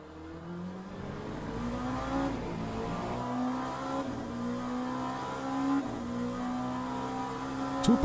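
An F1 race car with damage in the Le Mans Ultimate racing game, its engine droning loud and close as the revs climb and fall through gear changes, the pitch rising steadily across each pull.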